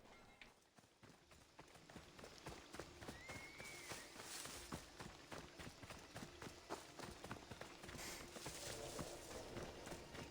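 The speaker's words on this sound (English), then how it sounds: "Kid, come ride on my flaming horse." Hooves clip-clop at a steady galloping rhythm as a horse runs in Assassin's Creed Odyssey, quiet and continuous, with a brief whinny partway through and an ambient game backdrop.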